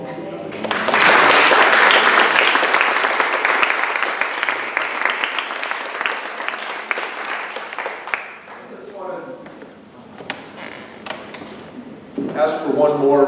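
Audience applause at the close of a day-long event, loud and dense at first, then thinning into scattered clapping as voices start to talk over it.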